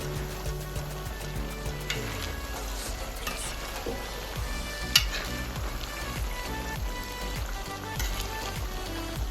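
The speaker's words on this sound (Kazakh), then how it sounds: "Оны май шыққанша дейін шыжғырамыз." Chopped animal fat renders in a cauldron over a fire, giving a steady close sizzle and crackle that runs the whole time, with occasional stirring scrapes and small pops.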